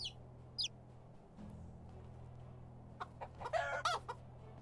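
A chicken clucking in the farming game Medieval Dynasty, a quick cluster of close clucks near the end over a low steady hum, with a couple of faint high chirps earlier.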